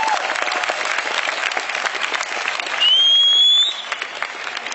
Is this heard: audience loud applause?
yes